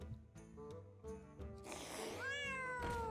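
A cat meows in the Hearthstone card game. Short harmonic game tones come first, then a loud, rising and falling meow closes the moment.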